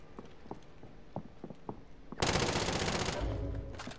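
Gunfire in Call of Duty: Modern Warfare: scattered distant single shots and thumps, then a loud sustained burst of automatic fire erupts halfway through and rattles on to the end.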